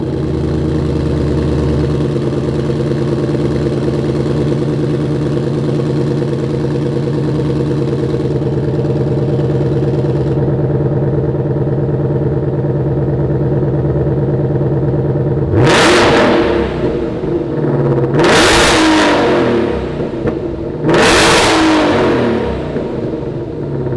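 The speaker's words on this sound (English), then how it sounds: "Let's fire up this GT500 and see what it sounds like." A 2020 Ford Shelby GT500 idles with a loud, steady, deep rumble, then barks through three sharp, rising revs in quick succession near the end, each one dropping back to idle.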